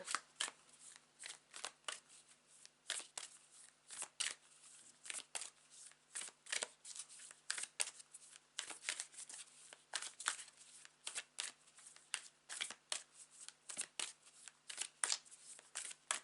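Tarot cards shuffled and drawn from a deck, a rapid run of crisp, close riffling flicks and slaps that continues steadily without talk.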